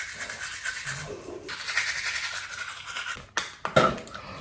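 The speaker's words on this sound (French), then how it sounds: "Bon, je me brosse les dents et on se retrouve" Close-up scrubbing of a toothbrush against teeth, a steady broadband brushing texture in short strokes with a pause, then a few sharp taps near the end.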